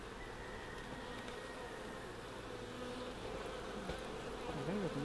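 Honey bees buzzing around a beehive in fall: a steady, close swarm hum with individual bees droning past the mic, growing slightly louder toward the end.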